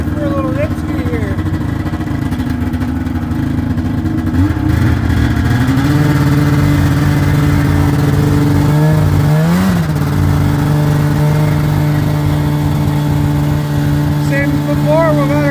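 An RK snow vehicle engine revs and rises in pitch as it pulls away on a winter ride, with steady mechanical drone and harmonic whine close up. Speech is likely faintly present.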